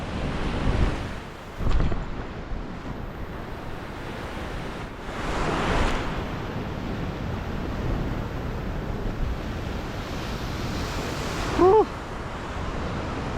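Ocean swell washing ashore at a fishing spot, a steady wash of surf with wind buffeting the microphone and a few louder surges, with no talking.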